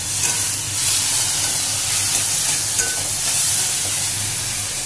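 Leafy greens with turmeric and salt sizzle and steam in a pan, a loud, dense, continuous hiss with faint stirring movements throughout and no speech.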